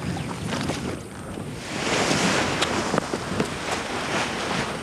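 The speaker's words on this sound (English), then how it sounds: "Hang on, here comes the wind." Steady wind rushing past an outdoor hillside or flying site, a broad roar that swells louder midway and stays close and constant, with no talk.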